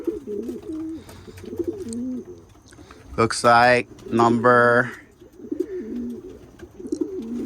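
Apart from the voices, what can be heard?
banded bird cooing in a loft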